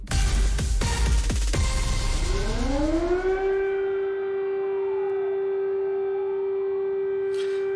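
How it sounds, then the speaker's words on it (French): Air raid warning sirens wail over Ukraine, rising from a noisy start into a long, steady sustained tone with layered wavering pitches, loud and carrying without speech. "ce que l'on entend, Thibaut, ce sont les sirènes d'avertissement anti-bombardement qui résonnent ce matin en Ukraine"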